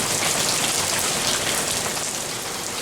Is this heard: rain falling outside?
yes